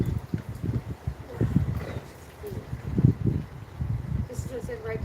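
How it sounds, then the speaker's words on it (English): Gusty wind buffeting the microphone in low, uneven rumbling bursts that swell and fade, loud and close. "I got a beautiful blustery wind that swirled all around"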